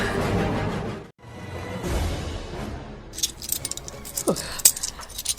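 Keys jangle at a padlock in a rattling burst with scraping and clinking, loudest toward the end, over a background of soft noise.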